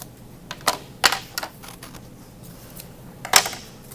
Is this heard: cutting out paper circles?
yes